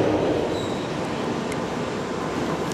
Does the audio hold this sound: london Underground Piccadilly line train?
yes